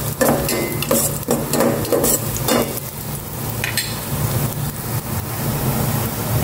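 Food stirred in a pan over a gas burner stove, a steady close sizzle with repeated scraping and stirring clatter throughout.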